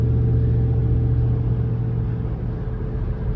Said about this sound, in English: And there's Jason, who's driving.